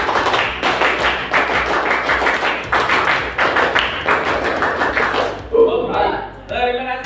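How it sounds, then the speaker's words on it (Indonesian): Scout-style patterned clapping (tepuk pramuka) in a classroom lesson: loud, close handclaps in a rhythmic sequence of grouped beats, with voices chanting along, ending as speech takes over. "Tepuk satu, tepuk satu, tepuk dua, tepuk tiga, tepuk tiga, tepuk pramuka"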